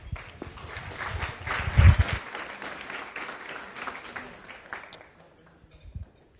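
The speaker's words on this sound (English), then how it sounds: "please welcome everyone with a warm round of applause" Applause from guests at a Las Vegas Rotary Club luncheon meeting, a fairly dense round of clapping that swells near the start, peaks briefly, then thins out and fades over several seconds.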